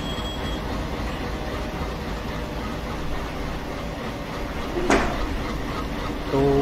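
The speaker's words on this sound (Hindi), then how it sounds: "तो हमारी ट्रेन ऐसे ही थ्रॉटल दिए बगैर ही हमारी ट्रेन आगे बढ़ गई।" A freight train coasts downhill in the Open Rails train simulator, with continuous rolling wagon rumble and rail noise, a brief squeal and clatter near the end.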